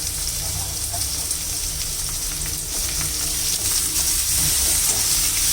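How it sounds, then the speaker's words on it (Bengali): Loitta dried fish sizzles loudly in a pan with onion and garlic, a steady close crackling fry with faint stirring throughout and no talk. "এখন যেইভাবে মাংসের মশলা কষাইছি সেইভাবে কষাবো শুটকিগুলো"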